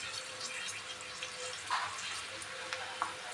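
Onion frying in a pan, a quiet steady sizzle with a few faint stirring scrapes, heard alone at low level.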